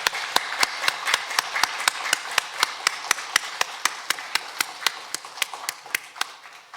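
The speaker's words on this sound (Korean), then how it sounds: "우리도 힘찬 박수로 영광 돌리겠습니다" A church congregation claps in unison during Sunday worship, sharp evenly spaced claps in a steady rhythm, about three per second, continuing alone for several seconds without talk.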